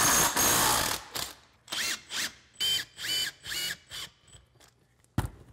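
A ratchet with a 13 mm socket works on the back wheel bolts during a track change in a shop: one long rough burst, then a run of six short, evenly spaced ratcheting bursts and a final sharp click.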